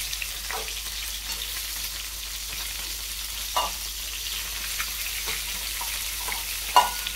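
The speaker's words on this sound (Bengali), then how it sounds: "তো ডিমটাও হালকা ভাজা হয়ে গেছে, আমি এখন উঠিয়ে নেবো, তার আগে আলুটা দেবি" Eggs and potatoes frying in a pan give a soft continuous sizzle, with a few scraping stirs and light knocks, moderately close and without talk.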